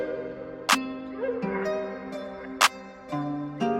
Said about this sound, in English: just a standard clap pattern to start off with